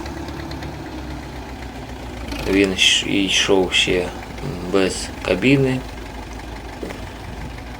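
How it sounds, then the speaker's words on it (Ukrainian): A Soviet MTZ-5 mini tractor, an early cabless model, idles with a steady low mechanical knock under someone talking loudly nearby. "Найперший радянський міні-трактор."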